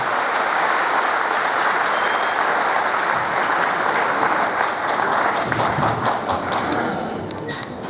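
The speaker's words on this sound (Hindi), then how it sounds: "जोरदार तालियों से अपने मुख्यमंत्री जी का अभिवादन करेंगे" Enthusiastic crowd applause greeting a chief minister at a public gathering in a hall, dense sustained clapping from a large audience that carries evenly and tapers slightly at the end.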